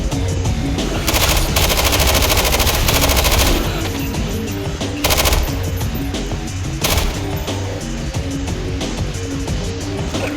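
Rapid automatic gunfire in a zombie video game, with long loud bursts of machine-gun fire broken by short pauses and single shots, dense and close throughout.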